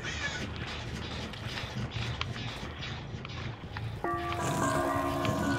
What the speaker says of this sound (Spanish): También tengo que estar pendiente de los cuervos